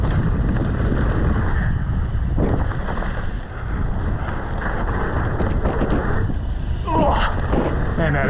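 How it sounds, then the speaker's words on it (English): Strong wind roars across a freeride terrain park on a ski slope at Park City, buffeting the microphone in a steady broadband rush that swells and eases throughout, with a voice talking briefly underneath. "Well, that's pretty windy."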